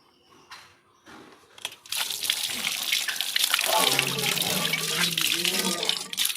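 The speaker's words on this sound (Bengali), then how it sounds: "ভালো করে জল দিয়ে ধুয়ে নেবো চিকেনগুলো।" Chicken pieces are rinsed under tap water: soft handling and faint bumps come first, then a loud, close gush of running water splashes steadily over the meat.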